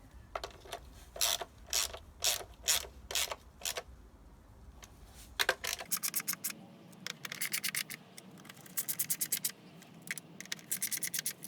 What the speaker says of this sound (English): I could easily break it with this 3/8 ratchet